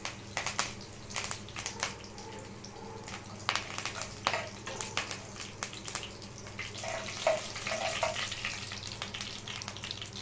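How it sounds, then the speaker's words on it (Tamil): Mustard seeds, fennel seeds and curry leaves sizzle and crackle steadily in oil in a pan, with sharp popping spatters scattered throughout, close and fairly quiet. "நல்லா பொரியட்டும்."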